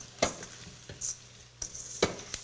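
Instant brown rice being stirred into sautéed onions and peppers in a pan for vegan dirty rice: a low sizzle broken by about five separate scraping strokes of a spoon, close and quiet, with no talk.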